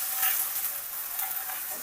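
Loud, steady sizzle and spitting from a pan of frying spices as water is added, a hissing crackle that holds for about two seconds with no voices.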